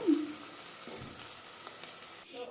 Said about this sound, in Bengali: এইভাবে নাড়তে থাকবো নেড়ে নেড়ে হালকা হালকা যখন ব্রাউন কালার আসবে সেই সময় জানবেন যে আমার পেঁয়াজটি ঠিকঠাক ভাজা হয়ে গেছে